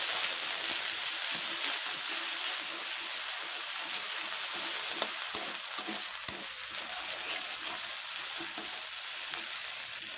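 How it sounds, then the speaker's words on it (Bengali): Tomato, dried red chilli and garlic paste sizzles in hot oil over cumin seeds for fish curry, a steady close frying hiss with a few brief clicks of stirring near the end. "এখন দিয়ে দিচ্ছি টমেটো শুকনো লঙ্কা আর রসুনের যে পেস্টটা রেডি করে রেখেছিলাম সেটা তেলের মধ্যে"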